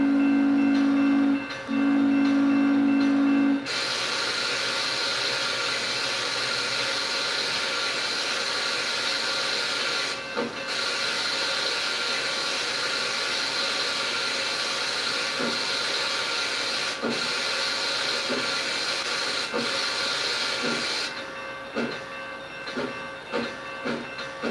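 A steam locomotive runs in a train simulator game with a steady, loud hissing rumble. A short tonal blast sounds at the start, and faint clanks and ticks recur through the run, with no talking.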